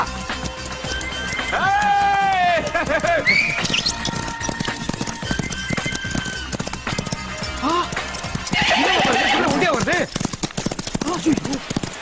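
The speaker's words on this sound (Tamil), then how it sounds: "என்னடா ஜோடியை கூட்டு போன குதிரை எம்டியா வருது?" Horse hooves clip-clop steadily through a comedy scene, with a horse whinnying partway through, under loud overlapping talk and shouting.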